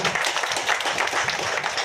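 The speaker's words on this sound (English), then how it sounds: "A very big round of applause for him also." An audience claps in a brisk, continuous round of applause at a bank branch opening ceremony, close and fairly loud throughout.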